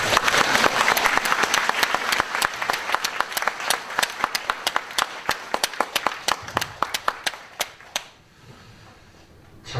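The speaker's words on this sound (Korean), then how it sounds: "크게 박수로 맞아주시면 감사하겠습니다" Church congregation applauding at a 25th founding anniversary Sunday service in Masan as a visiting pastor is welcomed to the pulpit; loud dense clapping that thins into scattered individual claps before fading out.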